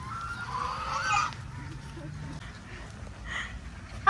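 Ducks and geese honk on an Indonesian laying-poultry farm, with a few nasal honks and quacks at moderate distance over low background murmur, and a sharper call at the very end.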